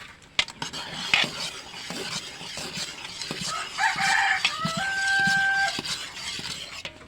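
Tira-tira candy mixture thickening in a pot as it is stirred continuously, giving a steady scraping and bubbling bed, with a rooster crowing in the background midway through.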